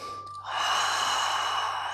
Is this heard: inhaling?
yes